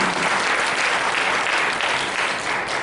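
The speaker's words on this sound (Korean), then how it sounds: "우리 이 영광 받으신 하나님께 다시 한번 경배의 박수" Church congregation applauding in worship, a dense, steady wash of clapping that holds at full strength for the whole stretch with no voices over it.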